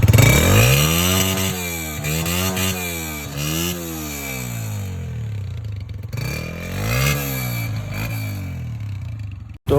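A freshly serviced motorcycle revs up and down repeatedly near the listener, its engine climbing and falling in several loud, rasping sweeps with a steady idle underneath and no talk.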